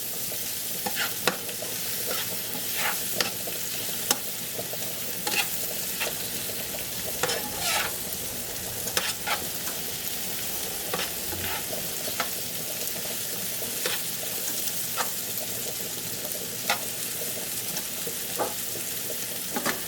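Mushrooms fry in a pan with a constant close sizzle, punctuated by repeated sharp scrapes and taps of a spatula as they are stirred around, continuing for twenty seconds with no talking.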